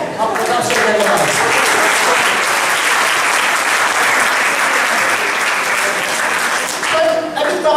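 Audience applause fills the space, a dense sustained clapping from a large crowd of listeners at a business seminar, steady and loud throughout before tapering slightly near the end.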